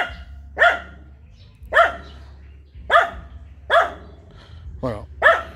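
A small white dog barks six times at a steady pace of roughly one per second, close and fairly loud over a low background hum, with no voices between the barks.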